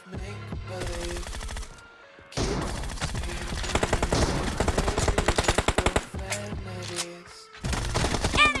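SMG and assault rifle fire in a PUBG close-range weapon comparison, with long rapid-fire bursts of automatic gunfire, loud and close, broken by brief pauses and mechanical reload sounds.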